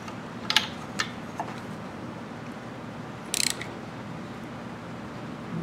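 A puller being tightened on the crankshaft seal of a Yamaha 100 Trailmaster, with a few faint metallic clicks and a short ratcheting burst over steady background noise.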